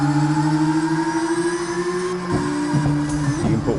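Racing touring motor in a drifting car in the video game CarX Drift, a steady high-pitched engine drone holding pitch, then wavering and stuttering near the end as revs change, with no talk.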